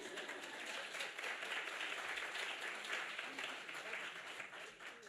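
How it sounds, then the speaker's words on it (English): Applause at a nonprofit campaign kickoff event in New York City as a speaker is introduced: a faint, continuous wash of many hands clapping, heard from a distance and sustained evenly. "please give her a round of applause"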